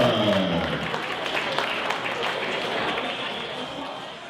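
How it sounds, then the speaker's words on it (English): Crowd at a grassroots boxing event applauds the winner of a unanimous decision, a broad sustained clapping that starts with a brief voice over it and slowly fades. "ladies and gentlemen, round of applause for Matt"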